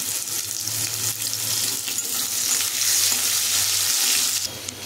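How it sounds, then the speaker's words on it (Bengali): Chopped onions sizzle and fry in hot oil with cinnamon and cumin tempering, a steady bright crackling hiss that holds throughout with a faint low hum beneath. "ফোড়নটা ভাজা ভাজা হয়ে গেলে দিয়ে দেবো পেঁয়াজ কুচি"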